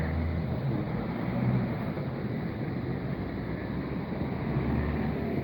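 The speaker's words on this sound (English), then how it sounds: "Sorry for the traffic noise." Steady broadband traffic rumble from a road beside a lake near a village, continuous and moderately loud with low-frequency hum and wind-like wash throughout, no voices.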